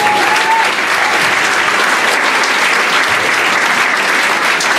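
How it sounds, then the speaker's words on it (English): An audience applauds the bronze award winners at a Duke of Edinburgh award presentation, dense sustained clapping filling the room at an even loudness throughout, with no voices over it. "A big round of applause."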